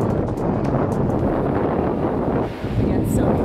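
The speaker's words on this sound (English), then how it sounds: "It's a little windy" Gusty beach wind buffets the microphone with a constant low roar throughout, rising and dipping slightly.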